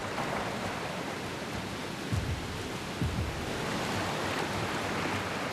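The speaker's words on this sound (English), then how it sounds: "Downstream, muddy water rushes over large rocks and over the banks of the waterway." Muddy floodwater rushes over large rocks and spills over the banks of a waterway, a loud, steady broadband roar of churning water with a couple of brief surges.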